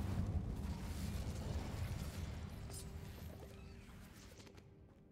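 A fiery Incendio spell blast in the video game Hogwarts Legacy, a loud broadband whoosh and rumble that starts strong and slowly fades over several seconds, with no speech.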